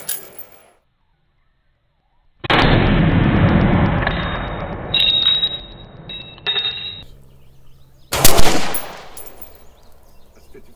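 Rifle fire with 55 grain ammunition through a modern military profile barrel: after a near-silent pause, a loud burst of shots with ringing, metallic echoes, then another sharp, close report near the end, with no talk.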